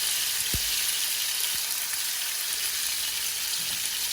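Tomatoes and a piece of onion sizzle steadily in about two tablespoons of hot oil, a dense continuous hiss with a couple of soft thuds as pieces drop in, no voices.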